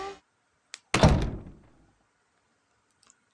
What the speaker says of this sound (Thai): เดี๋ยวไปเปิดประตูให้นะครับ